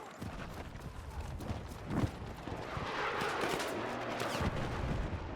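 Rapid bursts and scattered shots of gunfire ring out in the Battlefield 6 video game, a dense crackling volley that builds and persists amid background battle noise.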